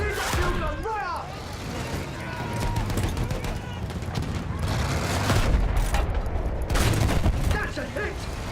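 Battlefield 1 video game combat with a field gun and gunfire, dense rumbling booms and rattling shots running continuously throughout, with voices speaking over the battle noise.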